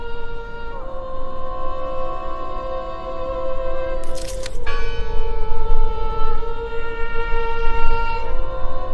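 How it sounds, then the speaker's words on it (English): A church bell tolls in the horror video game Draugen, giving long sustained ringing tones that hum and decay, with a brief bright clank partway through and no voices. "Listen! The bell! They're still in there!"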